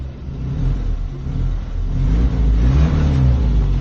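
A 1983 Toyota Kijang pickup truck engine revs up loudly and close by, a deep rumbling roar that swells and stays strong, with no talking.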